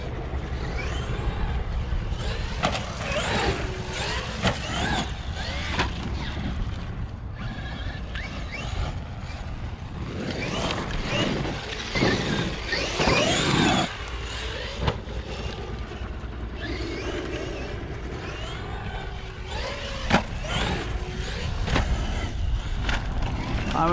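A Traxxas XRT RC race truck driving and jumping puddles, its electric motor whining and rising in surges over a long run, with rough impacts and splashes along the way.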